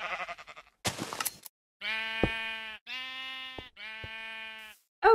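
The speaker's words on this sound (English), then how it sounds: "we have eight of our sheep here, ready and in their little spaces" Several sheep bleats from a Minecraft farm, three long harmonic cries in a row after a brief noisy burst, loud and close with no talking.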